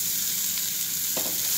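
Chicken gizzards with salt and turmeric cook in a covered pan, giving a steady close sizzle and frying hiss with a faint stir or shift of the pieces near the end.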